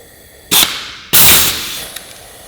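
A rivet gun sets a 3.2 mm rivet in two sharp, loud bursts close by: a short pneumatic blast, then a longer one that tails off, with a faint click after.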